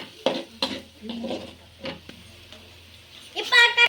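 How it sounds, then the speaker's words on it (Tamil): Ginger garlic paste with onion paste stirred in a cooking pot for goat intestine curry, a series of spoon scrapes and knocks against the pot, with a sharper sizzling burst at the end and someone talking in between. "அத்தனை இஞ்சி பூண்டு பேஸ்ட் போட்டுக்கலாம். மிக்ஸ் பண்ணலாம்."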